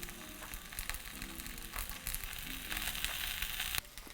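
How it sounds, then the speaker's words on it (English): A vegan cheese bagel sandwich toasts in a pan on the lowest heat, giving a soft, steady sizzle and faint crackling that builds slightly toward the end, quiet and with no talking. "We're gonna leave that for a couple minutes on the lowest heat setting so we don't burn. We just wanna toast the bagel."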